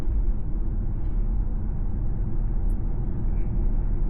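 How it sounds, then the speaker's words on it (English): Cabin fans run inside a Tesla Model Y as a steady, broad whooshing hum blended with road rumble, continuous and fairly loud throughout with no talking. "I feel the fans could be bit more quieter."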